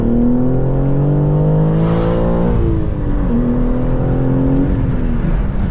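A G80 BMW M3 engine revs up loudly and steadily, its pitch rising and falling twice in a smooth, close droning whir.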